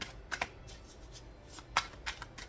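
Tarot cards are shuffled during a card reading. A few crisp, close riffles and flicks sound over a quiet background, with no talking.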